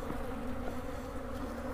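Honeybees swarm and buzz around an opened winter beehive during an inspection, a close, continuous droning hum that stays level throughout with no voices.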